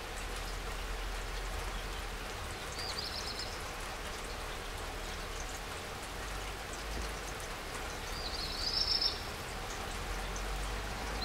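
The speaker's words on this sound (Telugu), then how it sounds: "సో పొద్దున్న నుంచి కంటిన్యూస్గా వర్షం కురుస్తూనే ఉంది." Continuous heavy rain pours around an old palace in a Maharashtra village, a steady close hiss of drops on surfaces lasting throughout, with a faint insect chirp in the background and no talking.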